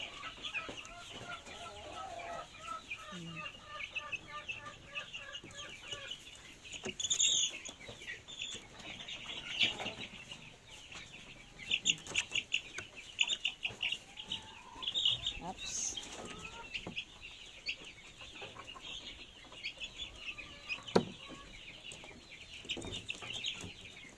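A flock of chickens, including one-month-old Rhode Island Red chicks and young hens, cluck and chirp nearby in a busy, irregular chorus, with scattered sharper peeps and occasional clatter, and a person talking intermittently over them.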